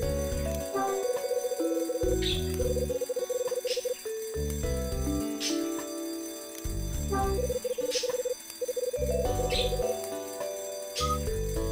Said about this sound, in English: Now the alarm's ringing.